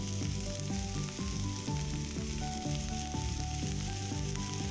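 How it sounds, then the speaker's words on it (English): Garlic, ginger, turmeric and spices sauté in a hot pan with a steady, loud, continuous sizzle and crackle, with no talking. "sauté this mixture"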